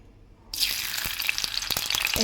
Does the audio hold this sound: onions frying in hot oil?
yes